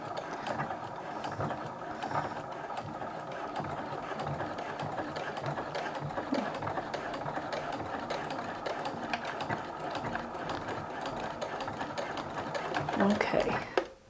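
Sewing machine stitching a dress seam, running steadily for the whole stretch with a continuous rapid mechanical whir and needle clatter, slowing and stopping abruptly near the end.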